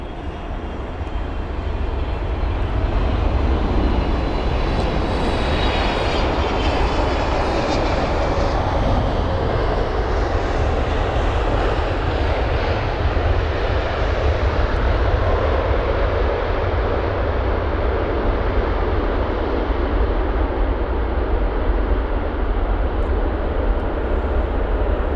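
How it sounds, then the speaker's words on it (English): A Boeing 777-300ER airliner landing at London Heathrow gives a loud, continuous engine roar that swells over the first few seconds and then holds steady and broad for the rest of the clip, with no voices. "CA937 on board this Boeing 777-300ER with the reg B2035 or Bravo 2035 from Beijing."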